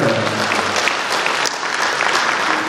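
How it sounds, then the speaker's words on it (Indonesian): Audience applause at a motivational talk, a dense, even wash of many hands clapping at once, loud and sustained without a break, with faint voices beneath. "Tepuk tangan untuk kita semua."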